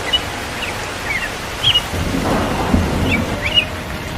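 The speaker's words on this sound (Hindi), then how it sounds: "बारिश की बूंदें लेकिन बड़ी बड़ी है" Large cartoon raindrops fall in a steady patter with low rumbling beneath, while small bird chirps flicker through the shower at a close, even level.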